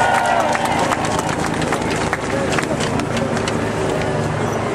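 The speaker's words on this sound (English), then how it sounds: "Please give her a round of applause." Dense, continuous round of applause from a large outdoor crowd at an anti-racism rally in London, a loud wash of many hands with scattered voices mixed in.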